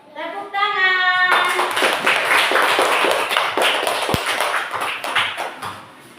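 A voice sings a short line, then a class of children claps rapidly and continuously for several seconds before fading.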